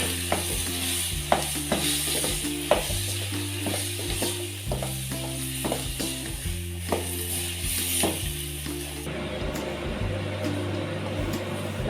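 Boiled potatoes and peas being stirred and mashed together in a pan, with steady scraping strokes repeating every second or so over a faint sizzle, close and fairly quiet.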